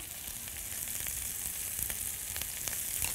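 Diced onion fries in a pan with a steady, fairly loud sizzle. A few faint crackles and pops rise above the hiss throughout, and no one speaks.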